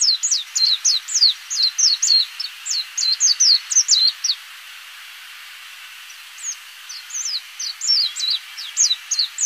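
A wild white-eye (burung kacamata) sings rapid, high-pitched chirping phrases in bursts, with a short lull midway before the calls resume, clear and close.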